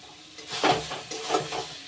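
Mutton lungs stir-fried with spices in a dry pan, giving repeated bursts of scraping and stirring with a soft sizzle underneath, fairly close and moderately loud.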